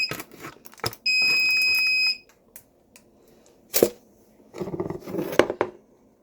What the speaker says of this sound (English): Oh, there's its timer.